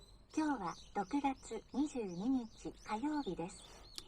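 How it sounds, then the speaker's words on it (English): Chirpy, tweeting calls repeat in quick bursts with pauses between them, fairly close and clear against a quiet background. "you can just hear the birds"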